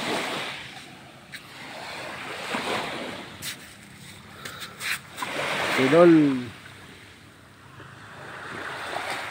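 Sea waves wash onto the shore in slow, rolling surges with gusts of wind buffeting the microphone, while someone talks over them.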